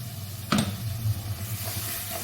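Mustard and green chilli paste masala for a Bengali hilsa curry being stirred in a hot pan, a low sizzle with one sharp scrape of the spoon near the start and softer stirring after.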